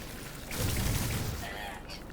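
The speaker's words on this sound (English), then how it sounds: "The geology cannon is a very powerful weapon." Geology cannon fired in a video game, a heavy blast with a rumbling low boom swelling around the middle of the clip, followed by a lingering crackle and hiss, heard close and loud with no talking.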